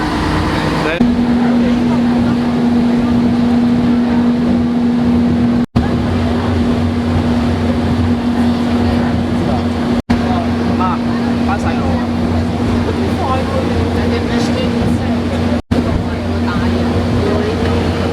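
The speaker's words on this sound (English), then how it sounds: "Catherine Jenkins OBE is that particular engine" Snowdon Mountain Railway locomotive running on the mountain line, a steady droning engine with a strong low hum and rumble, loud and continuous throughout, with people talking over it.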